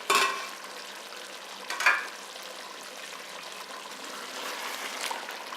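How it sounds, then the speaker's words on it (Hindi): Chicken with masala cooks in a covered pot over medium heat for biryani, giving a steady close sizzle and bubbling with a couple of brief scraping stirs. "5 मिनट चिकन को हमने मीडियम आंच पे पकाया है।"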